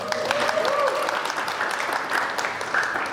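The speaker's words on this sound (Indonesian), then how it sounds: "tepuk tangan" Church congregation applauding during a sermon, a dense, moderately loud round of clapping with some crowd voices mixed in.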